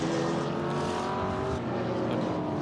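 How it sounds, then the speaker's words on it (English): A touring race car runs at Winton circuit during a festival of speed, heading toward turn 3; a steady, loud engine drone fills the clip without pause. "Car 17 just comes on screen now, heading in towards turn 3."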